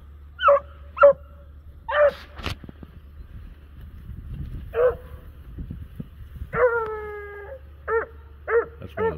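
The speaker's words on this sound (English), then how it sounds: "That's one of the puppies." A puppy barks and whimpers in short separate bursts, several sharp yips and whiny cries spaced irregularly, close and loud over a low steady hum, with no talking.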